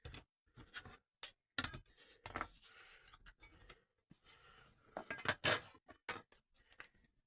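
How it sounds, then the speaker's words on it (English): Scissors cutting paper for an analogue collage: sharp, close snips and crisp rustles come in irregular bursts with short silences between them. "I'm going to try and cut it at the proper right angle"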